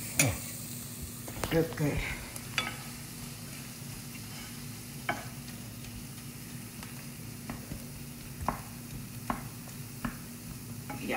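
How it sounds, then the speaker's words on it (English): Onion and tomato stirred in a pot while cooking rice and dal, a steady low sizzle broken by scattered scraping clicks of the spoon, with a few brief spoken words near the start. "keep stirring the onion tomato thing and cover"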